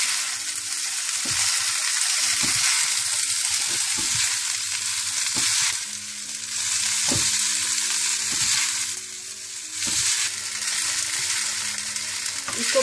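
Hakka noodles with green onion stir-fried in a pan give a steady close sizzle, with repeated scraping and tossing knocks from a utensil coming at an uneven rhythm.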